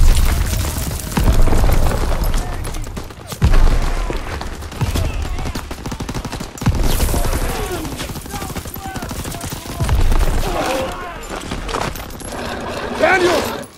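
Dense gunfire and booming explosions in the World War II shooter Call of Duty WW2 roll on loud and continuous, with shouting voices over the battle.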